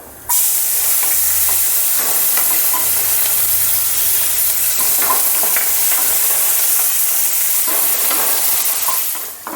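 Steady loud sizzling and hissing of onion sautéing in a hot pan until golden, with occasional stirring scrapes, continuous throughout and no voices.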